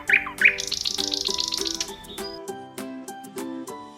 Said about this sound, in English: N is for Nightingale.